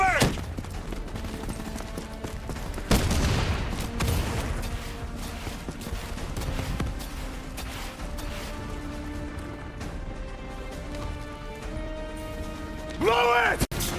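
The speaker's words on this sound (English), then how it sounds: "Javelin missiles inbound." Javelin missile strikes in Black Ops 3 land as heavy booming blasts, with a rattle of gunfire and debris between them and a final loud impact near the end, while voices shout over the combat.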